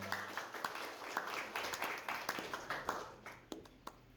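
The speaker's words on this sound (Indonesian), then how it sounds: "Dan tepuk tangan untuk kita semuanya." Scattered, fairly faint clapping from a small audience at a student organisation inauguration ceremony, individual claps audible in a loose irregular rhythm over a few seconds.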